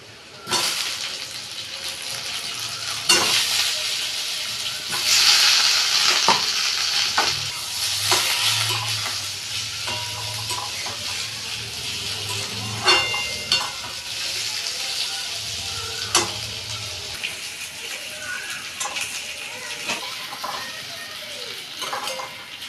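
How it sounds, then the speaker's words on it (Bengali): Potatoes and onions fry in a hot pan in a home kitchen, giving a steady, close sizzle throughout, broken by scraping spatula strokes and light metallic clinks of utensils against the pan. "আমার আলু পেঁয়াজ দুটোই ভাজা হয়ে গেছে।"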